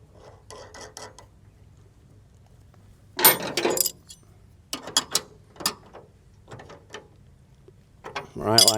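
A pin on a Betstco flail mower's quick hitch is tightened in short metallic bursts of ratcheting and clinking, separated by quiet pauses, close and fairly crisp.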